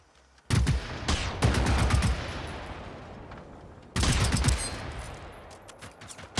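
Bursts of enemy gunfire in the Generation Zero video game, rapid automatic fire in two loud volleys, the first trailing off into a fading rattle before a second burst.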